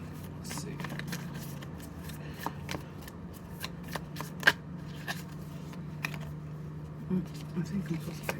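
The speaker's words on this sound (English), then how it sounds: "I'm gonna pull 3 cards" Tarot cards shuffled by hand in a steady run of soft riffling flicks and light taps, close and fairly quiet, with no talking over it.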